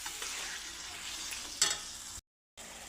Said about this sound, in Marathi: दही घालून आपण चांगलं ह्याला मिक्स करून घेऊ.